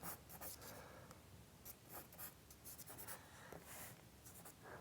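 A pastel pencil scratches and strokes across paper while drawing a horse's portrait, giving steady close, soft scraping in short repeated strokes with no talking.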